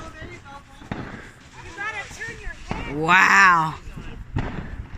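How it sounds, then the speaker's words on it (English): Fourth of July fireworks bursting around a street, with loud booms and crackling bursts, a big blast near the middle, while a person exclaims over them. "Everywhere you look, there's a firework going on."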